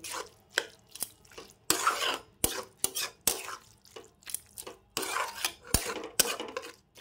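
Cabbage bharta being stirred with spices in a pan, heard as scraping and clinking of a utensil against metal in irregular bursts, close up and moderately loud, with no voices.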